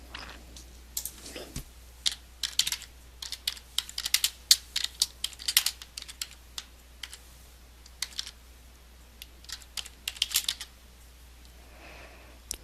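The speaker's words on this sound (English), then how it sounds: "I'm going to type in a search" A search query typed on a computer keyboard, with sharp, close key clicks arriving in irregular bursts and short gaps over a faint steady hum, no speech.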